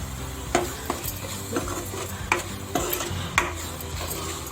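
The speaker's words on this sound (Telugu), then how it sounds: "పసుపు కూడా వేసి కలిపేయాలండి" Spices—salt, chili powder and turmeric—being stirred into a paneer and sweet corn curry, with a spoon scraping the pan in several distinct strokes over a low, steady sizzle, close and without talk.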